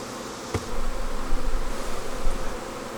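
Bees buzz steadily around beehives being moved to a new site, a mix of 8-frame and 10-frame hives, with a dense close swarm drone and one brief knock early on.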